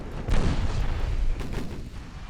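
Naval ship guns fire in the battleship game Ultimate Admiral Dreadnoughts, set in a 1909 French campaign in the Caribbean, producing deep, loud booming salvos that rumble on without break, with no talking.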